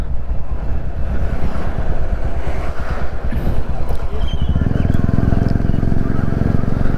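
A new Royal Enfield Classic 350 motorcycle being ridden, its loud single-cylinder thump pulsing steadily, then deepening into a heavier, smoother drone as it pulls harder, with wind rush over the microphone.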